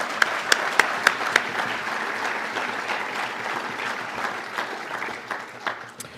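An audience at a South Australia Australian of the Year awards ceremony applauds the nominees, a steady spread of clapping with a few sharp close claps at the start that thins out toward the end.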